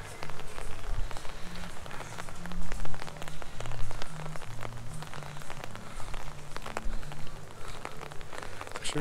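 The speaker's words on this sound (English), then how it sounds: "Raining pretty good." Steady rain patters on a hard surface at Disney Springs, loud and close, with scattered droplet taps and a low hum in the background.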